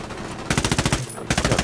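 Rapid bursts of automatic gunfire from enemies shooting at the player in Ghost Recon Wildlands, two close, loud, rattling volleys separated by a brief pause.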